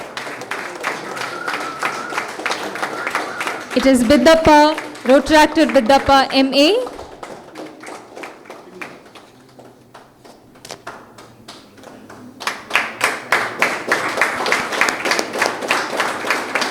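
Audience applause at a Rotaract Club of Mangalore City installation ceremony, with clapping swelling and fading in waves around a master of ceremonies announcing a member over the sound system.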